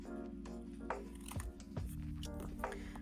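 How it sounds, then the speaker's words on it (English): Scissors cut paper for a small craft piece in a quiet room, making several crisp snips and crunchy slicing strokes close to the microphone, with no one talking. "turn the paper with your left hand as you cut with your right, or vice versa if you're left-handed, rather than trying to turn the scissors"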